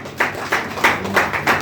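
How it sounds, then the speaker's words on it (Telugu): A church congregation at Sunday worship claps in a few loose, rhythmic bursts, moderately close and without speech. "చప్పట్లు కొడతాం."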